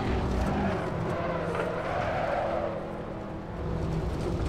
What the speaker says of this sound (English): Handbrake turn!